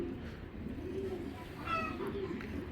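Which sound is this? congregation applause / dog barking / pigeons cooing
pigeons cooing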